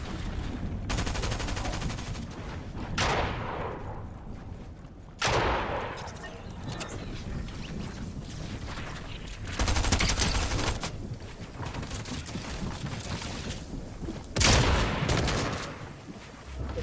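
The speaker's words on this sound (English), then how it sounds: "his partner's shooting me down" Gunfire rings out in a Fortnite Zero Build match, with repeated bursts of rapid shots and sharp blasts spread over the whole stretch, loud and close.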